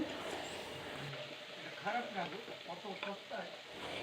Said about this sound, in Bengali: কড়াইয়ের মধ্যে পুরো কুচনো লাউটা আমি দিয়ে দিচ্ছি